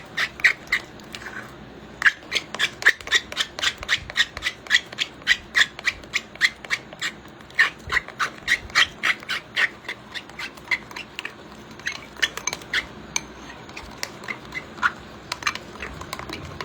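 Henna paste with added oils being stirred steadily in one direction in a bowl, a fast run of soft rhythmic scraping and rubbing strokes, close and fairly even for the whole stretch, with no talking.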